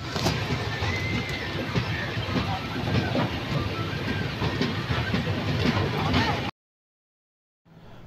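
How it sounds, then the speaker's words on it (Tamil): The Coimbatore–Chennai Intercity Express rolls along the rails with a loud, steady rumble and rhythmic clatter heard from inside, then cuts off abruptly into silence. "மொரப்பூர் ரயில்வே ஸ்டேஷனில் ட்ரெயின் கிளம்புன கொஞ்ச நேரத்தில் செயினை புல் பண்ணி ட்ரெயின் ஸ்டாப் ஆகிடுச்சு"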